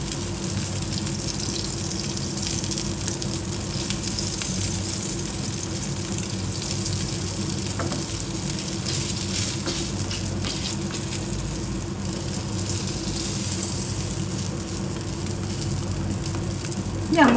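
Kulcha flatbread frying in oil in a pan, a continuous even sizzle and crackle throughout, fairly loud and close with no pauses.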